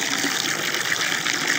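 Water gushing and splashing steadily as it is poured into a pool set up for ducks and ducklings, close and continuous with no voices.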